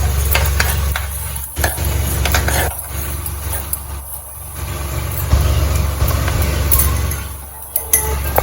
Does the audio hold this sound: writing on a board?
no